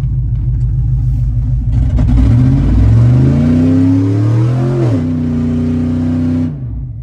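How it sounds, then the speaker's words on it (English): A cammed Chevrolet Silverado pickup revs hard for a burnout, its loud lumpy engine note climbing and holding high before dropping back to a choppy idle. The roar is close and dominant, with no voices. "Let's do a burnout."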